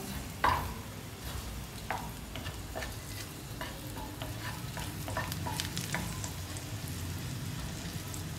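Garlic frying in a pan of oil and butter gives a soft, steady sizzle with scattered crackles and pops, one sharper spit near the start, faint and close.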